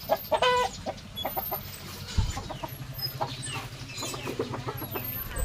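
Small farm chickens cluck and chirp in short, repeated bursts close by, with a steady low hum underneath and no talking.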